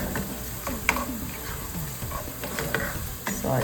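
Garlic and onion sauté in oil for red lentil dahl, with a continuous soft sizzle broken by repeated spoon scrapes and clicks against the pan, near and unaccompanied by speech.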